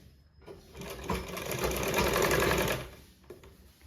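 A sewing machine stitches the cross piece onto a blouse neck, a steady rapid whir running for about two seconds after a brief start, then slowing and stopping, close and fairly loud with no talk over it.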